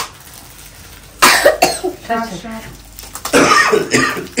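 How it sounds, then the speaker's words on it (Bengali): Several people coughing and clearing their throats at home during an anniversary gift unboxing, a run of close, harsh coughs in bursts with short gaps, mixed with some vocal sounds. "সবার কাশি, সবাই বসে যাচ্ছে।"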